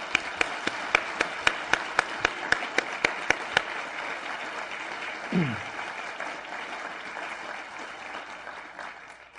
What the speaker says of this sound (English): I ask that you join me once again in a round of applause for Walter Shorenstein.